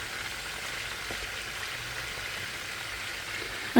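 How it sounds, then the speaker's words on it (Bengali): Meat frying in a pan with homemade spices for a spicy roast, a steady even sizzle holding at one level throughout, close and fairly quiet, with no talking. "ভাজা হচ্ছে"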